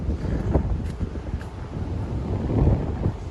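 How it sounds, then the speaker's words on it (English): Gusty wind buffets the microphone in low, rumbling bursts that swell and fade throughout, with no other clear sounds, on a walk along a creek in Regina after rain. "It's also windy."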